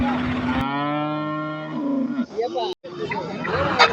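A jersey cow at a busy cattle market lets out one long, loud, close moo that lasts over a second. Another lower bellow follows amid crowd chatter and people talking nearby.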